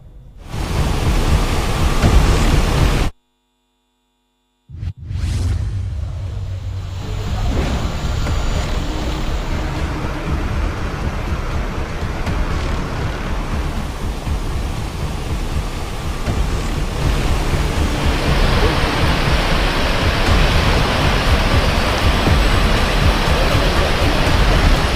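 Heavy monsoon rain and swollen, flooding rivers in Himachal Pradesh, a dense, loud roar of rushing water and downpour that fills the whole stretch, broken once by a brief silent gap before resuming just as strongly.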